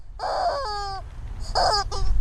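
A bird calls nearby with two loud, harsh caws, the second following after a short gap, close and clear.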